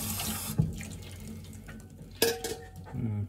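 Tap water runs from a faucet at a sink in Japan, a close splashing flow broken by a few sharp clinks and knocks, with no voices.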